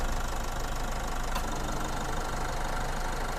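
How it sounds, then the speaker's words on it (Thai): A 2018 Isuzu MU-X 1.9 diesel engine runs steadily at idle with the air conditioning on, a continuous even rumble with a faint knocking texture, heard alone without voices. "ดูครับ เสียงเครื่องยนต์ เดี๋ยวผมเงียบให้แป๊บหนึ่งแล้วกัน"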